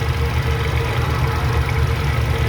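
Car engine idling after a stop-oil treatment for white exhaust smoke, a steady close low rumble with an even pulsing throb and no talk.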